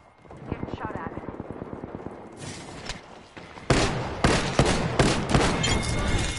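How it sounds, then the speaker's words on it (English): Gunfire in Apex Legends crackles in quick bursts that grow louder and denser partway through, mixed with game effects while a player talks over the action. "Getting shot at."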